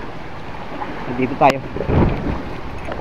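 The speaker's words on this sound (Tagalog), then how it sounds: "lakas ng hangin dito" Strong storm wind from Typhoon Paolo gusts across a coastal fishing spot, a steady broadband roar with buffeting on the microphone, while someone talks briefly over it.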